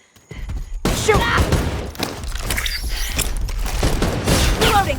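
Rapid, dense automatic gunfire from a video game shooter, loud and close, with bursts continuing almost without a break over rumbling booms and mechanical clatter.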